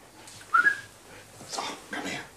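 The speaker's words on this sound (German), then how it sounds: "Ach, das ist der Hund von der Frau?" A dog gives a short high whimper, followed by a couple of faint breathy sounds, heard close in a quiet indoor setting from a 1975 German crime drama.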